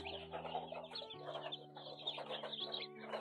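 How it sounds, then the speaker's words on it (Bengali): Quail birds in a brooder give a steady, busy chorus of chirps and clucks close by, with a constant low mechanical hum running underneath throughout. "এখানে 36টা কোয়েল পাখি আছে"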